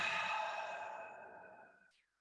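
One long, steady breath out through the mouth, close and soft, fading gradually over about two seconds during a guided breathing exercise, then silence.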